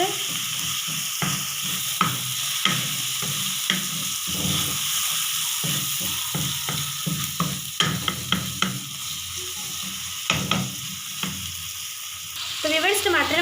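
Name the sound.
tomatoes sizzling as they cook soft in a pan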